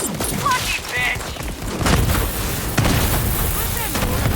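Grenade blasts in the Borderlands 3 video game, a chaotic run of booming explosions and gunfire layered with game effects, dense and loud throughout with voices and music mixed in.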